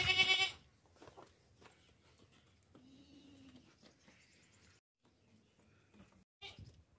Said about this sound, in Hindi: जवान मोटी ताज़ी सेहतमंद ऊंची लंबी बड़ी बकरी है